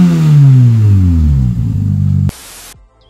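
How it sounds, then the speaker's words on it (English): A MINI rally car engine running with no exhaust fitted: a loud, raw, close drone that sweeps in pitch for about two seconds, then stops abruptly and leaves a short hiss. "It runs, it's got no exhaust."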